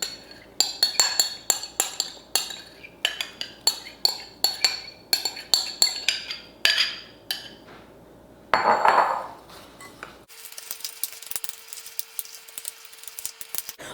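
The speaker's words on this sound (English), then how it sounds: "we're going to add in our 1/2 cup of melted butter" A utensil clinks and scrapes rhythmically against a bowl while melted butter is mixed into graham cracker crumbs and brown sugar for a no-bake cheesecake crust, with brief pouring and a softer hissy sound near the end.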